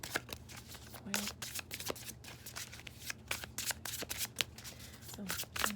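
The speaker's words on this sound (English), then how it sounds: "that's what I'm feeling right away as I'm shuffling the cards" Tarot cards are shuffled by hand in a steady run of rapid riffling and flicking bursts, close and continuous, with a few light knocks in between.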